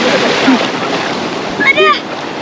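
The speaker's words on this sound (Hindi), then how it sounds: "लहर बहुत तेज है" Strong ocean waves surge and wash loudly and steadily along a beach where a family is bathing, with a brief raised voice near the end.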